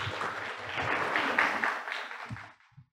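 Audience applause welcoming a deputy director onstage at an NSTDA genomics medicine seminar in Thailand, a steady wash of clapping that swells, then tapers off and stops near the end.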